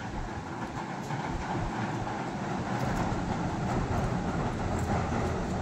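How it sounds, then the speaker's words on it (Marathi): A train passes below Malanggad hill near Kalyan, heard as a steady, unbroken rumble and roar of rail traffic that fills the whole stretch, with no voices over it. "ती बघा ट्रेन जाते, ती बघा."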